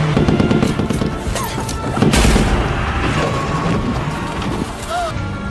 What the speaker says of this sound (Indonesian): langsung menghujaninya dengan tembakan